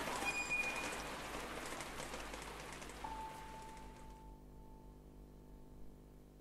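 Steady rain falling in the Distraint horror video game, a dense even hiss that continues alone for several seconds and then thins out as a low sustained tone hums on underneath.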